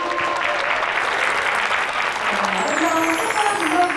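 Wedding guests applaud a singer who has just finished performing a song, the clapping steady and broad throughout, with a faint voice and some brighter tones rising near the end.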